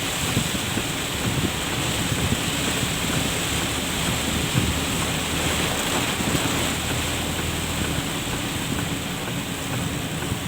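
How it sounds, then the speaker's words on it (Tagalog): Heavy rain roars steadily over a car at night as it drives along a road. The hiss is dense and unbroken and covers everything, with no voices heard. "Sobra naman, lakas ng ulan."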